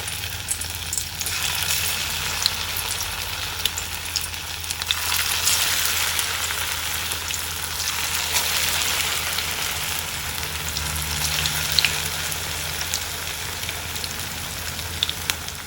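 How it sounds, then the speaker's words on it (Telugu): Poha patties deep-fry in hot oil with a steady, moderately loud sizzle and bubbling crackle that swells slightly midway and carries on without speech. "ఆయిల్ వేడయ్యాక ఇప్పుడు మనం తయారు చేసుకున్న ప్యాటీల్ని ఆయిల్లో వేసి వేయించుకోవాలి"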